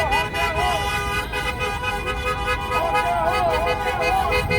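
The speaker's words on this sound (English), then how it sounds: "Honk that horn if y'all support, honk that horn!" Car horns toot repeatedly amid steady traffic noise at a street march near the Brooklyn Bridge, with a crowd and voices continuing underneath throughout.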